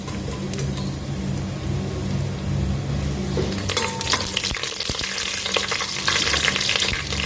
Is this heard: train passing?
no